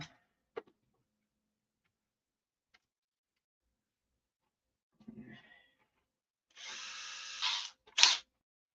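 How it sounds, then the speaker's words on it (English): A power drill bores holes through the bottom skin: a steady whirring run of about a second, then a short, sharper burst, with a few faint knocks and handling sounds before it. "drill a bunch of holes around it"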